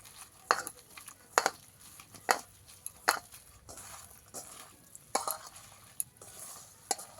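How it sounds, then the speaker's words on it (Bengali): Prawn mixture is kneaded and squished by hand in a bowl, producing quiet, irregular wet squelches and soft clinks in short bursts, close and faint, with no talking. "এবার ভালো করে চটকে চটকে হাতের সাহায্যে মেখে নেব।"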